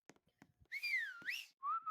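Whistling in the Roblox game Chameleon, a few sliding, melodic tones that rise and fall, preceded by faint clicks and taps, with a final steady short note.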